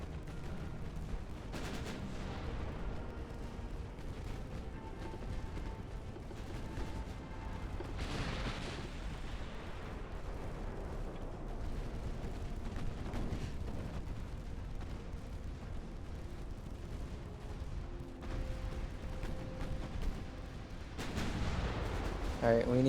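Light cruisers fire armour-piercing shells in the Ultimate Admiral: Dreadnoughts naval video game, a steady stream of distant booming gunfire and artillery thuds rolling under a constant low rumble, with a heavier burst near the end.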